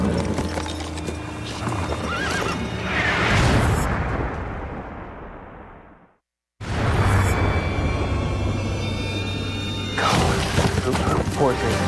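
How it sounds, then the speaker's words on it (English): A horse neighs and its hooves clatter during a rugged outdoor chase, loud and close, with a sudden dropout partway through before the commotion resumes. "The horse."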